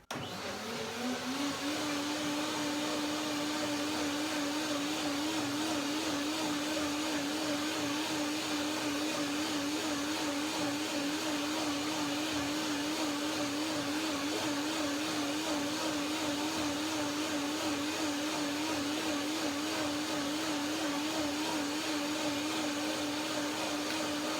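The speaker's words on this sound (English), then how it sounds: "So one more blender dance to give it the right texture and the right flavor." A blender whirs steadily at full speed, blending ginger macadamia cream. The motor keeps a loud, even, continuous hum for the whole stretch, with no talking.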